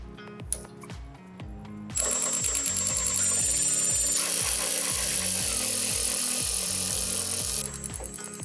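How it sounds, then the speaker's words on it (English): Hood hinge bolts come off a Toyota Land Cruiser FJ62. A few clicks lead into a loud, sustained whir of a power driver running close by for several seconds with a steady pulsing rattle, then a few more clicks. "Then go ahead and remove the bolts closest to the hinge."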